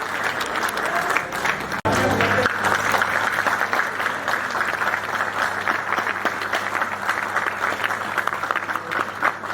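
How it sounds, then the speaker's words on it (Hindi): Loud, sustained audience applause at a society annual general meeting, dense clapping from a hall crowd after a brief pause near the start, continuing steadily to the end. "उसे जोरदार तालियां हो जाए"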